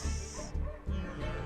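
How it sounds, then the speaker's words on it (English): Dogs bark and yip in short bursts, three quick barks spaced apart, somewhat distant and faint against a quiet room background. "cut this part from the video because of dogs barking"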